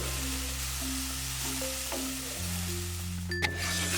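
Sesame seeds dry-fry in a pan, a steady, close hiss and soft crackle that continues evenly without pause.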